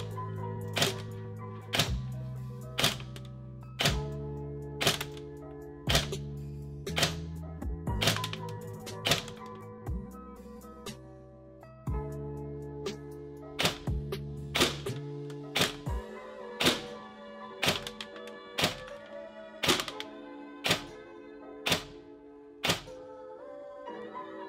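A G&G SR25 E2 airsoft DMR fires single BB shots in a steady series of sharp thunks about a second apart, close and clear, with music playing underneath.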